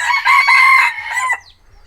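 A rooster crows loudly and close, one long harmonic call that breaks off, with hens clucking softly in the background.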